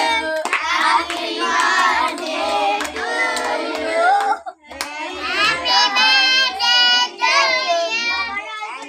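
Children in a classroom clap together in a steady, even rhythm of evenly spaced hand claps for a student's birthday, close by, while young voices sing and chant loudly over the clapping throughout.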